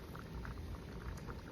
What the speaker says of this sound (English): our pot has come to a boil again